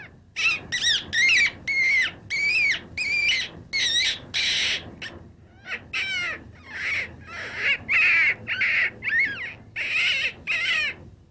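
A reed squirrel call blown to imitate squirrel mating squeals gives a rapid, loud run of short, shrill squeals with rising and falling pitch, heard close with no other sound.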